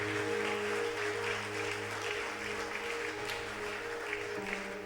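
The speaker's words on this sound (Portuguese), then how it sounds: "pode aplaudir a Jesus" Church congregation applauding during a sermon, a steady broad wash of clapping with a faint sustained hum beneath it, continuous at moderate volume throughout.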